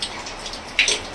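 Heavy rain pours down in a steady, wide hiss of falling water, with a slightly louder splash near the end and no voices.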